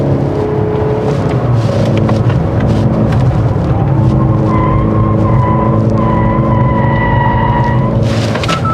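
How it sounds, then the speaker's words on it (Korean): Mercedes-Benz E 300 4MATIC AMG Line, 2024, accelerating in Sport mode with amplified virtual engine sound, a steady loud drone heard from inside the cabin with rising tonal hum layered over road noise throughout. "스포츠가 이게 가상 사운드잖아요. 그래서 가속을 할 때 좀 더 증폭돼서 들어오죠"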